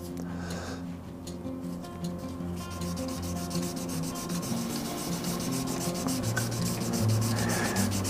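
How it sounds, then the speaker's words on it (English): Sandpaper is rubbed by hand against an acrylic shaving brush blank spinning on a wood lathe, a steady close rasping hiss that runs continuously over the hum of the machine. "So a little bit of a hand rub with this grit"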